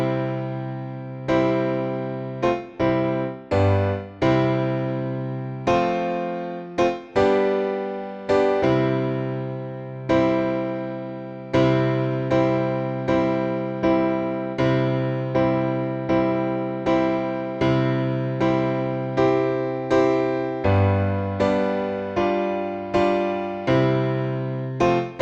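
Block chord accompaniment to Joy to the World, likely on piano, with full chords struck in a steady rhythm and each one decaying before the next, continuing for about 25 seconds with no voices.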